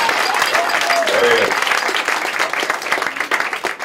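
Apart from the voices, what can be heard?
audience applause at magic show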